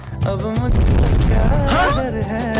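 Firecrackers go off in a loud, dense burst of booms and pops, with voices and music-like tones running over the blasts throughout.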